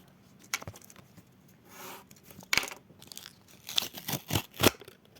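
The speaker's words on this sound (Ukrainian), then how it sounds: "Відкриваємо наш пакетик." A paper surprise packet is torn open by hand in a series of sharp, close crinkling and ripping bursts separated by short pauses.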